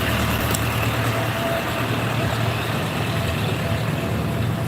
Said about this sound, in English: noisy tractor going by.